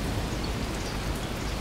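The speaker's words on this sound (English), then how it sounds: "Oh, it's raining." Rain falling in a jungle survival video game, a dense, steady hiss of drops with no pauses, alone without talk.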